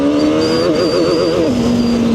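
A VOGE RR500S inline-four motorcycle engine revs past 10,000 RPM, a loud, close, high-pitched whine that wavers before settling into a steady tone.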